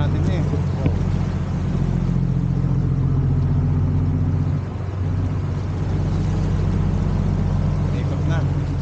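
A motorboat engine on a fishing mother boat runs at a steady drone, with constant low mechanical rumble throughout and no clear change in pace.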